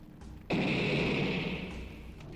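Another explosion in the video game Midnight Train, set in a mine: a loud blast hits abruptly and roars on as a wide, sustained rumble that gradually tapers off, with no talking.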